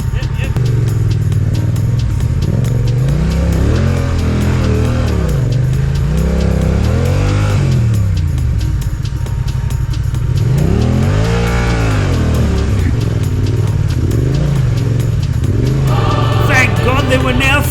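Adventure motorcycles labour up a slippery slope, engines rising and falling in repeated revving surges with wheel-spinning strain, fairly close and loud, with voices mixed in.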